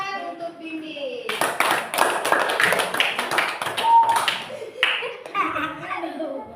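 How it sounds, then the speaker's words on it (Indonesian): Primary school pupils in a classroom break into brisk, rhythmic group hand clapping after a quiet pause, loud and close, with children's voices and a little laughter around it. "Beri tepuk tangan untuk bimbing."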